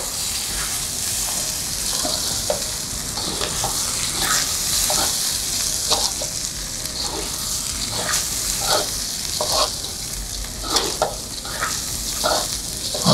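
Rice for nasi kwacai sizzles in a frying pan while a spatula stirs it, each scrape landing in an irregular repeated rhythm over a continuous close hiss.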